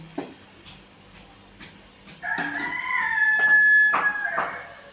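Chickens cluck and call nearby, a few scattered clucks first, then a louder stretch of drawn-out calls from the flock.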